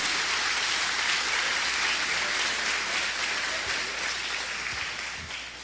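A church congregation claps together during a worship service, a dense steady round of applause that holds strong and then gradually tapers near the end.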